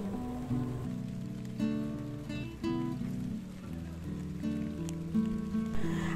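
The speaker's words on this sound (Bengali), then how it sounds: "আসলে এত বৃষ্টি পড়ছে" Heavy rain pours steadily onto a home garden of cucumber and dragon fruit plants, a continuous close patter running unbroken under a plucked melodic background tune.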